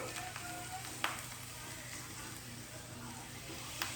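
Chicken breast frying in avocado oil in a pan gives a steady, close sizzle throughout, with a couple of sharp clicks from the pan or utensil.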